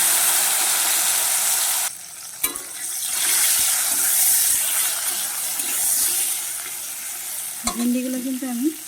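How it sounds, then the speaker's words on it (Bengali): Okra frying in hot oil with turmeric in a wok: a loud, steady sizzle and hiss with occasional stirring clatters and a brief voice near the end. "ভেন্ডিগুলোকে আমি কিন্তু খুব ভালো করে ভেজে নিচ্ছি"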